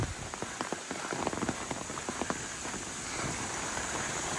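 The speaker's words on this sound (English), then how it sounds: "now turn the camera off because this rain's getting a bit heavy" Heavy monsoon rain pours in a tropical forest near Darwin, Australia, a dense, continuous hiss of drops with scattered close patters and splashes, loud and steady throughout with no voices.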